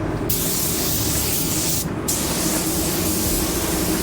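Adhesion promoter sprayed from an aerosol can onto a car panel, a loud close continuous hiss with two brief breaks where the nozzle is released.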